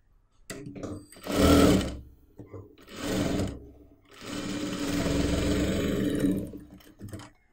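Sewing machine stitching the half-inch shoulder seam of a churidar petticoat, running in three loud whirring bursts, two short and then one longer steady run, with brief pauses between them, close by.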